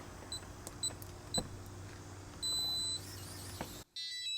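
An RVLock keyless RV door lock keypad gives several short electronic beeps at irregular intervals over a faint hum, followed by a longer steady tone and another high beep.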